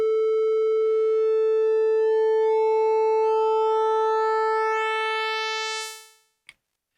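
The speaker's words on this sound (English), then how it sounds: "This particular shape here is a triangle that will morph into a pulse wave." A MicroMonsta 2 synth holds one steady tone that begins as a soft triangle wave and gradually brightens into a buzzy pulse wave before quickly fading out, followed by a brief click.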